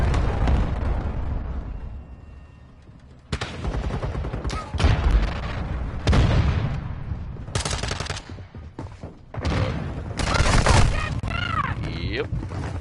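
A Semtex grenade explodes in Modern Warfare 2 amid a multiplayer firefight, with several loud booming blasts and bursts of gunfire separated by brief lulls, over busy game ambience.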